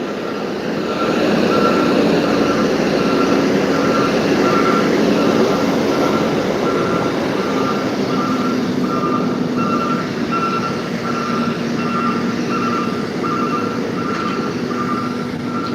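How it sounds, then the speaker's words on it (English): A garbage truck reversing nearby sounds a steady, evenly spaced electronic beep over a constant rumble of engine and street noise, continuing throughout without any voices. "Man over here getting the garbage, so y'all gonna hear some beeping and some noise"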